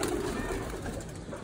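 Pigeons kept and flown from a home balcony coo continuously at close range, a soft, steady murmur with overlapping low calls and no voices.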